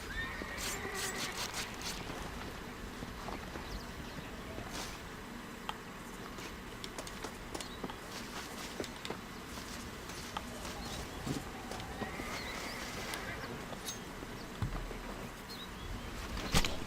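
A horse neighs now and then over a steady, busy outdoor backdrop in the video game Red Dead Redemption, with soft hoofbeats and scattered small sounds, all fairly faint.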